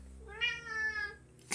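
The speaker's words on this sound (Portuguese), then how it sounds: "Até o gato ficou surpreso." A cat gives a single clear, drawn-out meow, fairly close and loud, ending in a short sharp click.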